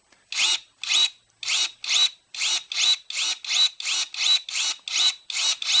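Cordless battery pruning shears whir in about a dozen short, evenly spaced motor bursts, each rising and cutting off, close and fairly loud with silence between and no speech.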